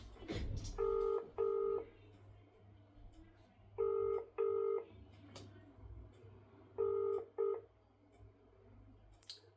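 Telephone keypad tones sound in three bursts of two beeps each, spaced a few seconds apart, clear and close over a low steady hum, as a phone call is dialed.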